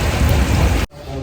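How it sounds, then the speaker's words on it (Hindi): Heavy rain pours down as a loud, steady hiss that fills the scene, then cuts off abruptly near the end, leaving a much quieter background. "देखते कितनी देर बाद बारिश बंद होती है।"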